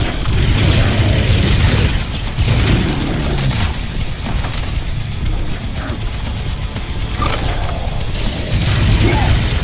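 Guided shots fired in the video game Prodeus, a dense loud barrage of booming blasts and mechanical clatter running continuously with no gaps.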